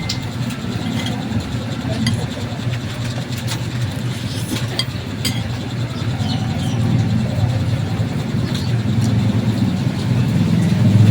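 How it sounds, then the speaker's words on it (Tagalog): Motorized tricycles pass on a road beside a roadside shop during heavy rain, a continuous engine drone and rumble that grows slightly louder toward the end, with no speech heard. "Ang dami na ng tricycle."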